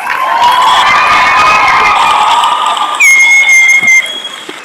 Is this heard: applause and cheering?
yes